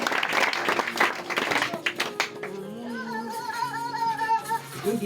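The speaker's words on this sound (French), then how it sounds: "Est-ce qu'on va acclamer très fort pour Jésus?" A church congregation applauds and cheers at a worship service, a burst of clapping and shouts up front that gives way to sustained sung or chanted tones over continuing crowd noise.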